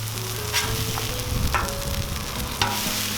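Bacon cheese smashburgers sizzle steadily on a Cuisinart 360° griddle, with a few scraping spatula flips cutting in over a faint background tone.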